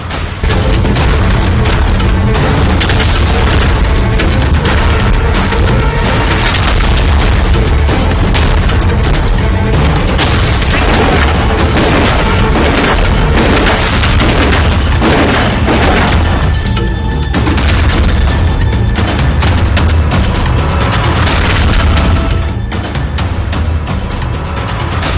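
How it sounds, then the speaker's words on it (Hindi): Loud, dense burst of rapid gunshots and booming cracks, about 20 rounds in 20 seconds, continuous and chaotic, with no talking; outdoor firing outside a restaurant on a road. "रेस्टोरेंट के बाहर की अंधाधुंध फायरिंग"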